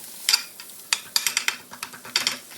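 A metal spatula taps and scrapes rapidly in a pan, stirring and chopping egg masala with a quick, irregular run of light clicks and scrapes, close and fairly quiet.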